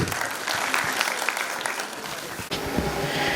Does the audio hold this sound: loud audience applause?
yes